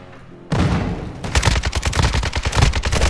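Rapid gunfire from a Call of Duty: Modern Warfare II DMZ match, a dense run of loud shots that builds into sustained bursts with no talk over it.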